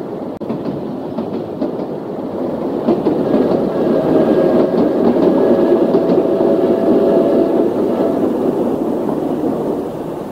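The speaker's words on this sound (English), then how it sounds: "The train goes through Wilkesport Station and over the Wilkesport Road level crossing." A Perth diesel railcar from the 1970s passes through a country station and over a road level crossing, its rumble and clickety-clack of wheels building loud and close before easing slightly as it moves on, with no voices.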